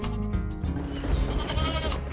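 A goat in a village setting bleats in a series of wavering, nasal cries, fairly close and clear with no talking.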